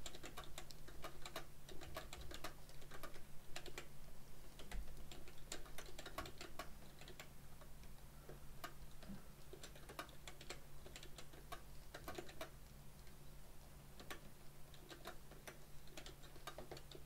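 Rapid, uneven clicking of computer keyboard keys continues steadily throughout, close and fairly quiet, over a low constant hum with no talking.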